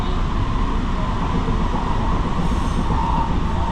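The JFK AirTrain people-mover runs toward Terminal 8 with a steady, loud rumble and rushing wheel noise, continuous and unbroken, with no voices.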